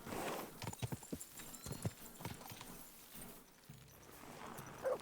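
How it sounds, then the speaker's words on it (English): A horse's hooves clip-clop at a walk in Kingdom Come: Deliverance II, a steady sequence of fairly close, moderately loud steps. "Look at my horse. My horse is amazing."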